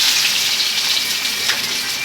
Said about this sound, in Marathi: आता तेल गरम केले, मम्मी कांदा टाकते